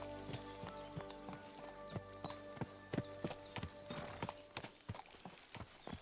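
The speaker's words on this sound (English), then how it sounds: "You walked into the horse." A horse in the medieval role-playing game Kingdom Come: Deliverance 2 clops along with a steady run of hoofbeats, moderately close and fairly quiet, with the game's background ambience behind it.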